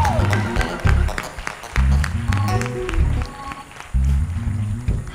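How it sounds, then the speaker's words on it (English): A church congregation claps hands at a baptism service, loud rhythmic clapping in bursts with voices and crowd noise mixed in. "clap your hands, everybody."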